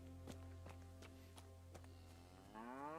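Cows low in the game Kingdom Come: Deliverance, two or three deep moos over a steady harmonic hum, with a few footstep-like taps and a rising tonal swell near the end.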